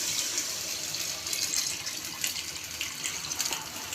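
Water pours steadily into a cooking pot while chicken biryani is made, a close, continuous hissing gush with no talking.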